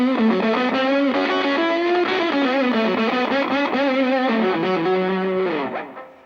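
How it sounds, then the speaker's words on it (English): An electric guitar played through a JHS 3 Series fuzz pedal with its bias control set for a gatey, sputtering Velcro-like fuzz, a dense distorted melodic run that ends in a fading decay; no talking. "It's a JHS 3 series. I really like it because you have like a bias control, which gives you this gatey Velcro sound."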